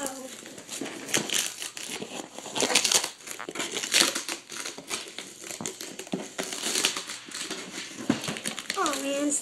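A mail package is opened with loud, close crinkling and crushing of wrapping and packing material in irregular bursts, while someone talks over it.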